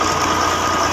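Tractor engine driving a sugarcane crusher, a steady close, loud mechanical drone with continuous broadband rumble and no breaks.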